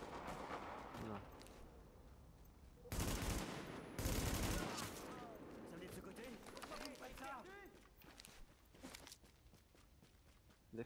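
Carbine fire in The Division beta, a third-person shooter: a few loud bursts of rifle shots near the start, then scattered shots and footsteps beneath a steady game soundtrack.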